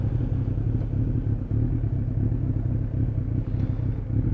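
A Suzuki Bandit 600 motorcycle engine, recently treated for a carburettor fault, runs at a steady, even idle. The low, continuous rumble is close and loud, with light mechanical clatter and no talking.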